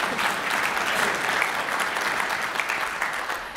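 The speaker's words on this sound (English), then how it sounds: "thank you, yes, big applause" Sustained applause from a lunch-and-learn audience, a steady dense wash of many hands clapping at an even level throughout, with no talk over it.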